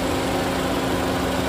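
Honda Civic FD1 with a 1.8 engine and manual gearbox, 2011, idling smoothly close up: a steady, even hum with a low, constant tone and no stumbles.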